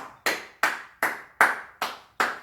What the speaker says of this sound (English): Can we begin with a round of applause, friends?